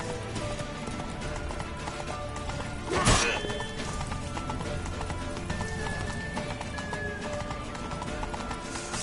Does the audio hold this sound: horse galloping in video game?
yes